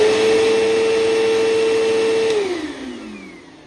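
A Bissell Cleanview 3575-8 bagless upright vacuum cleaner runs with a loud, steady motor whine close by, which winds down in pitch near the end as it powers off.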